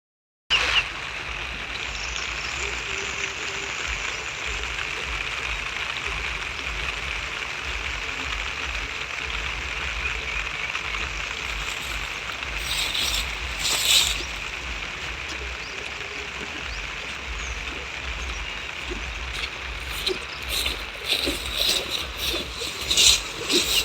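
Heavy floodwater after torrential rain pours and rushes steadily past flooded vegetable plots, a continuous broadband roar that holds nearly level throughout and swells slightly near the end, with no voices.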